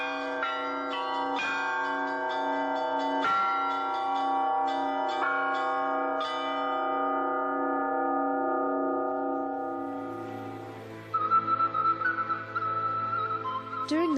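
Church bells ring in a traditional bell-ringing performance in Moldova, several clear strikes in quick succession, then long, slowly fading tones, with a brighter ringing tone entering near the end.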